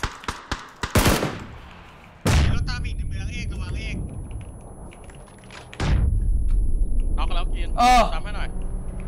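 Several bursts of rapid gunfire in PUBG, loud and close, interrupted by heavy thuds, with excited voices talking over the shooting.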